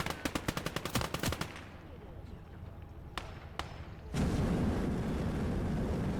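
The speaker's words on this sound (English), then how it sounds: "So the machine gun's getting some nice work too" Rapid bursts of machine-gun fire in the wartime shooter Call to Arms: Gates of Hell Ostfront, a dense string of sharp close shots followed by a couple of isolated cracks and then a steady roar of battle noise.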